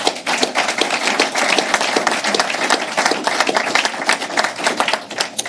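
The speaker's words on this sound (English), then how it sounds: "That's worth a round of applause." Audience applause at a Massachusetts state government awards announcement, dense steady clapping from a room of people sustained for several seconds without talk.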